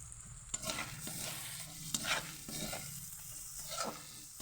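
Chicken frying in a pan and being stirred, with a steady sizzle and repeated scraping strokes of a utensil across the pan, close and continuous.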